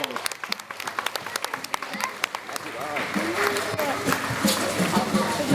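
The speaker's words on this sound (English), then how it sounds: "Big round of applause." An audience claps at a tiger show at Dreamworld, Australia. Sharp scattered claps swell into sustained applause while a presenter keeps talking over it.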